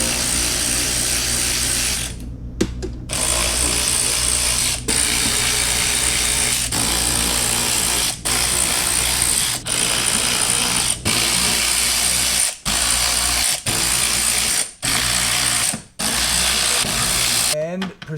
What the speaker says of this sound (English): Now we're going to remove the 10 7mm bolts, and I'm going to work from both outside edges till I get to the inside.